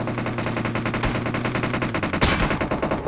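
Rapid automatic gunfire from PUBG Mobile, a dense continuous stream of shots with a sharper burst near the end, loud and close with no talk over it.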